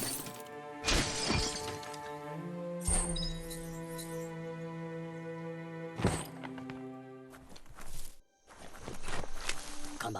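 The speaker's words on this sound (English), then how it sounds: "You shouldn't worry about smashing up the box." Boxes smashed in the video game Biomutant: several sharp crunching breaks stand out over layered musical tones and game ambience, with footstep-like thuds between them.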